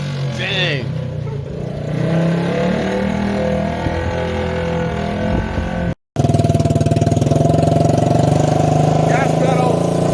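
An 88cc Sportrider engine runs steadily throughout, a constant mid-pitched drone with a brief cutout near the middle before it resumes, while voices talk over it.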